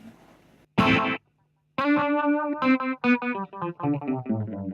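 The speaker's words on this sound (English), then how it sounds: "I think it's the tape delay model that I use for it." Electric guitar run through a tape delay pedal set to a very short delay time: a loud strummed chord, a brief silence, then a string of picked notes with a tight, doubled slapback repeat, no voices.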